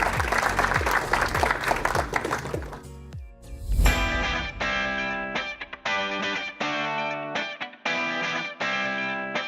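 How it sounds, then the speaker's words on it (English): Guests at a wedding reception clap loudly for the couple for about three seconds before the applause gives way to distorted, effect-laden music with sharp stops and restarts. "Let's give them a big round of applause."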